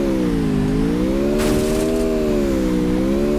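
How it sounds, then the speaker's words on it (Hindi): A car races at speed in a video game, its engine holding a loud, steady droning hum that rises and falls slightly, with a brief hiss of tires or wind midway. "तो इस गाड़ी को मैं सीधा भगाता हूँ"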